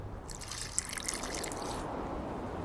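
A short, faint trickle of water being poured in the video game The Witcher 2, a soft splashing dribble against quiet background.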